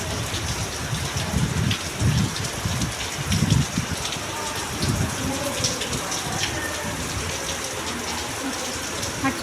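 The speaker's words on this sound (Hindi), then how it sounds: "कितनी बारिश हो रही थी, क्या बताऊं" Heavy rain pours steadily outside a house onto an empty street, a dense continuous hiss with a few stronger gusting surges, with some muffled voices or sounds underneath.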